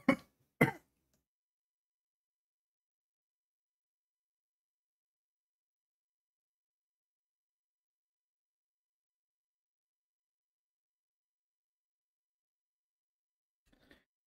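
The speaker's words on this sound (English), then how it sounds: "I had to cough hard." Two sharp, hard coughs in quick succession right at the start, close and loud, followed by long silence and a faint throat sound near the end.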